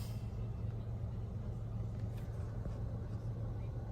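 Steady low rumble of a car driving close behind, a continuous drone with no clear rises or passes, in the background of an outdoor walk.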